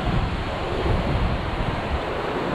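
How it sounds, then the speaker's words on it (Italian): Sea waves break along a rocky fishing shore, giving a steady, loud wash of surf with wind noise on the microphone and no voices. "Guardate che onde, bellissime, bellissime."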